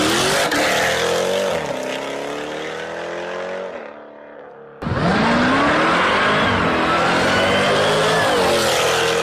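A 1000 hp Jeep Trackhawk with all-wheel drive accelerates hard, its engine climbing through several gear changes with brief dips between shifts, loud and close, then a sharp surge as it pulls away again.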